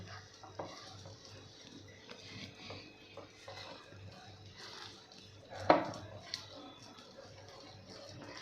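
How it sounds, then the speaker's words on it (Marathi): A batter of chopped fenugreek, coriander and green chilli is mixed by hand in a bowl. Soft, faint stirring and squelching is broken by one sharper clink near the end. "त्यानंतर मेथी आणि कोथंबीर आता हे सगळं आपल्याला मिक्स करून घ्यायचं आहे"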